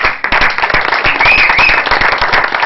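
An audience at a comedy stage show claps and applauds vigorously, producing a loud, dense, continuous patter of hand claps with a faint whistle partway through.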